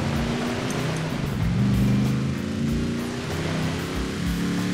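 A huge military-coloured car in Forza Horizon 4 drives through a lake, its engine giving a low steady rumble with gentle revving over a wash of water, loud and close.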